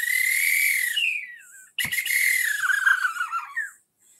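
A small whistle made for calling birds is blown close by with warbling, sliding chirps that imitate birdsong. A sharp click breaks in halfway, and then the fluttery calls continue before stopping.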